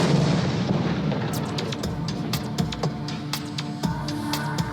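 A ship's gun fires aboard the historic naval ship Constellation in Baltimore, producing a loud close boom that rolls into rumbling echoes and crackles, with no talk.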